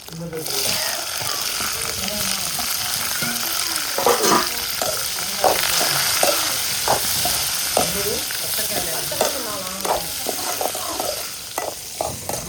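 Onions fry and sizzle in a pan, browning with steady crackle and occasional stirring scrapes, while a person talks over the cooking.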